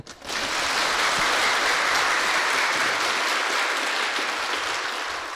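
Louder audience applause fills a Buddhist talk venue, a thick, sustained roar of many hands clapping that holds at high level throughout and tapers slightly at the close.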